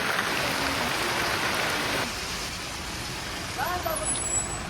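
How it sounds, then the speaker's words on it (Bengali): Heavy rain pours in a broad, steady hiss near a road, loud at first and then easing slightly, with a vehicle rumbling past and voices heard through it. "এত বৃষ্টি হচ্ছে"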